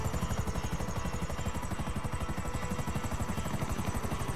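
Helicopter in Grand Theft Auto 5, a steady close rotor chop with rapid regular blade thumps and engine whine, continuous and loud throughout with no talk.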